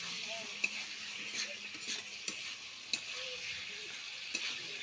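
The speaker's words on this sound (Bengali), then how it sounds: "এখন মাংসটাকে একটু ভালো করে কষতে হবে, ভেজে নাও, ভেজে নিচ্ছি।" Meat frying and being stirred in a pan for a home-cooked curry, a steady sizzle with scattered clinks and scrapes of the spoon against the pan, fairly quiet and close.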